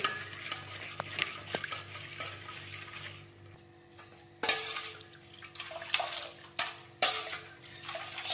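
A spoon stirring shakkar jaggery sugar into a little water in a metal vessel gives close scraping swirls and light clinks against the sides, with brief sharp taps and quieter pauses between strokes.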